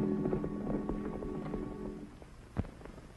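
Hooves clip-clop at a steady walking pace over a low rumble, fading slightly, with one sharper knock near the end, in a 1940 Western film.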